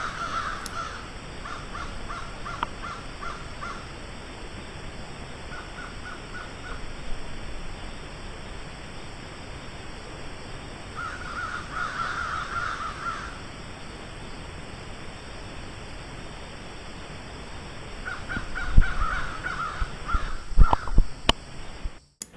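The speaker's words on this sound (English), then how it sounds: "a load of crows are just coming over the top of me. You can see them all going into roost in the trees behind. making quite a racket." A flock of crows caws intermittently overhead while settling to roost in trees outdoors, with repeated bursts of calls at moderate distance over a steady hiss of wind, and a brief rustle near the end.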